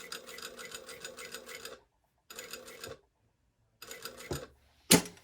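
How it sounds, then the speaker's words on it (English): A sewing machine stitches down the folded edge of a tower sleeve placket in close bursts of rapid, even rattling, stopping and starting three times, with a sharp clack and a brief rustle of fabric near the end. "So I'm going to sew down my folded edge till I'm past that."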